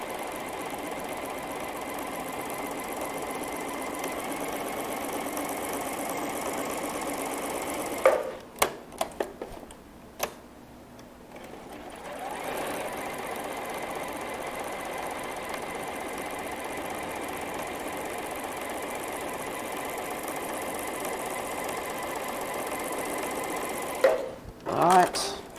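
A sewing machine stitches a bowtie quilt block along marked lines, running steadily for long stretches and pausing briefly twice with small clicks, close and fairly loud.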